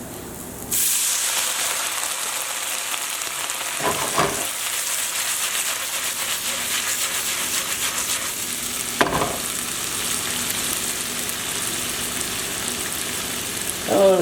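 Green beans steam and sizzle in a pan with a splash of water, a steady broad hiss running throughout with a few brief stirring clatters and one louder burst near the end.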